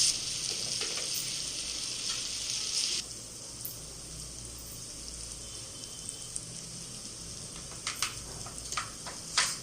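Tomatoes frying in a pan for avalakki chitranna poha, a soft, low sizzle heard up close with a few light clicks and stirring taps near the end.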